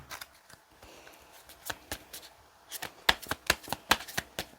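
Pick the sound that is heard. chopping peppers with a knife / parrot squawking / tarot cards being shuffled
tarot cards being shuffled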